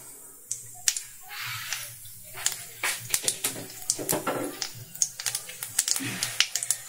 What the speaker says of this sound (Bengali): তো আমি দেখো গোটা জিরে দিয়ে দিলাম 1 চামচ।